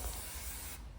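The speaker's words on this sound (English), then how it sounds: "Just greasing the chains up." Spray grease hisses steadily onto the chains of a Heizohack G50 wood chipper, a close, continuous spray that cuts off near the end.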